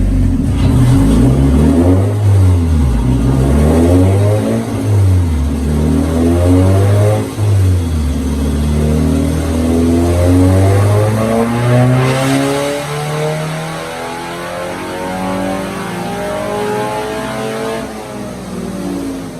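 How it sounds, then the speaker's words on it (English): A Spec Miata engine on a dyno roars through repeated pulls, loud and close, its pitch sweeping up and down in successive revs with no voices. "So we're all set up on the dyno. Let's get these first pulls going."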